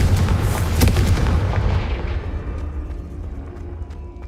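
A loud, booming fire-spell blast from the Hogwarts Legacy video game, a single heavy explosion that rumbles and then slowly decays into a fading tail.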